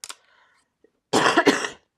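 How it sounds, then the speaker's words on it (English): Two sharp coughs at the start, then quiet, followed by a louder burst of throat-clearing coughs close to the microphone. "I apologize for the coughing."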